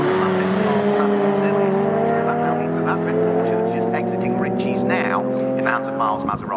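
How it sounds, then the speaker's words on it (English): A Porsche race car drives past at Snetterton circuit during a classic car race, its steady high engine drone loud and close, with a commentator talking over it throughout. "that Porsche that's just exiting Ritchie's now in the hands of Miles"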